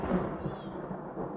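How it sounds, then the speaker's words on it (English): Stage thunderstorm effect during a theatre production of The Sound of Music: a low, steady rolling rumble of thunder, moderately faint and continuous, with no clear separate cracks. "You're not afraid of a little thunderstorm, are you?"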